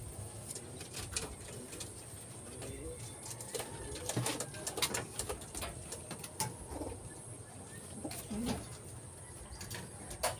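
Pigeons coo softly and repeatedly while being given water in a loft, with rustling, wing flutters and scattered clatters nearby, and a person talking over the birds.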